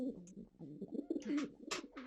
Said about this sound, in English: The pigeons. Yes, the pigeons. I don't see them, but I can hear them.